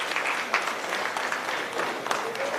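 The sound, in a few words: applause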